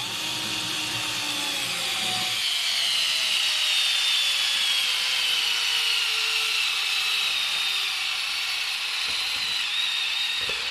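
Parkside Flashcharge cordless screwdriver from Lidl driving into wood, a loud continuous whining motor hum whose pitch slowly drops as it strains and slows, close up with no talking.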